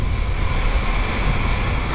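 Steady, loud jet-engine drone of a Falcon business jet, a continuous broadband roar with a high whine on top that holds even throughout, with no voices.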